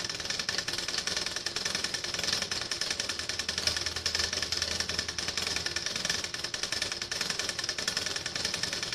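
A sewing machine stitches fabric for a cape, a fast continuous mechanical chatter at moderate level running steadily throughout with no voices.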